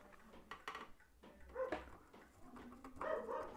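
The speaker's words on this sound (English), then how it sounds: "that's my dog barking in the background" A dog barks in the background, several scattered yips and barks of moderate loudness in a room, with faint handling noises between them.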